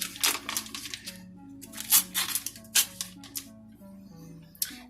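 Crinkly paper wrapper peeled off half a stick of butter, a close run of sharp rustles and crackles in uneven bursts with brief pauses, no talking.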